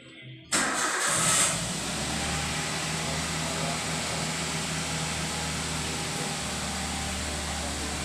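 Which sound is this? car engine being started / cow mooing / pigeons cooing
car engine being started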